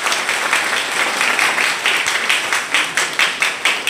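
A training-session audience in Dumka applauds loudly and steadily, the dense clapping turning into more rhythmic, distinct claps toward the end.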